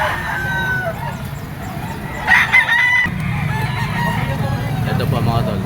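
A blue-legged Gilmore gamefowl stag rooster crows once at a poultry market, a short loud call that rises out of steady crowd murmur and background chatter, with a voice speaking nearby.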